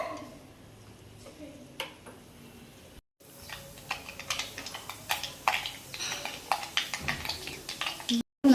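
Mustard seeds and fenugreek popping and spluttering in hot oil for a fish curry, dense rapid crackles building close and loud, with a voice briefly speaking at first.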